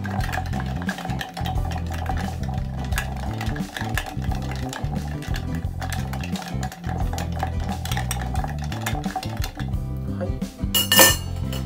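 Whisky stirred with ice in a glass to chill it for a Long John highball, giving continuous clinking and rattling of ice against glass, close and fairly loud, with one brief spoken word.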